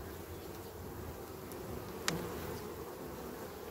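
Honey bees buzz at a hive frame full of honey in a steady, close, continuous drone, with a brief click-like tick midway and no talking.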